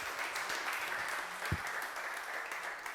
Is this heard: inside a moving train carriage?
no